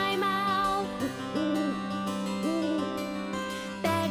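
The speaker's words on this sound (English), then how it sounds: "Can you hear the nighttime owl?" A cartoonish owl hoot sound effect in a children's show, several repeated hoots over a bright music bed at moderate loudness.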